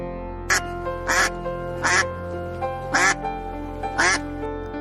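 A goose gives five loud, nasal honking calls at an even pace about one per second, close by, with short quiet gaps between them.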